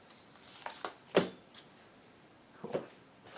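Cards drawn and slid during a solo game of Legendary Marvel Secret Wars board game, a few short soft papery swipes and flicks, one sharper snap near the middle and another pair later, close and quiet with no talk.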